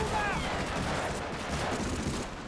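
Covering gunfire in Medal of Honor: Frontline on a beach assault, dense overlapping rifle and machine-gun fire in a continuous loud barrage, with voices shouting through it.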